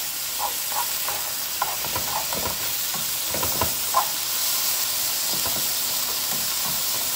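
Teriyaki chicken and broccoli simmer in a pan, giving a soft, steady hiss with faint scattered pops and light stirring clicks, fairly quiet and close with no talking.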